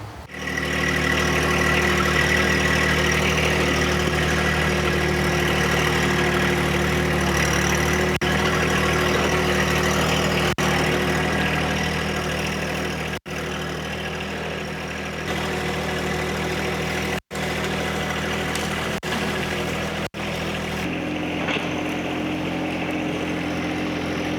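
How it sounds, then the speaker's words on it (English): Tractor engine running steadily at close range to clear ground for cutting and mowing, a loud continuous drone with a few brief dips near the end and no talk. "So we're going to take the tractor back there."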